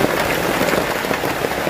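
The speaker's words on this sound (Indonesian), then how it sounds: "Ini benar-benar masih hujan." Heavy rain falls at sea on a floating shelter built from used plastic bottles, a dense, steady patter filling the whole stretch with no voices.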